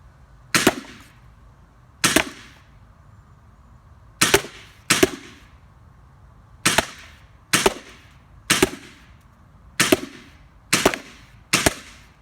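An H&K Umarex KWA MP7A1 airsoft gun fires ten sharp, separate snapping shots at a 50-foot range, spaced irregularly apart with quiet gaps between, close and crisp.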